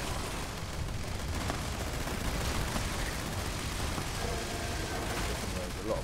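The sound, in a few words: Gauss minigun firing rapidly in Fallout 76 video game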